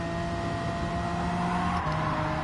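Steady engine drone from a car driving away in the racing game Gran Turismo Sport, a continuous hum with faint harmonics running throughout at a constant moderate level, no voices.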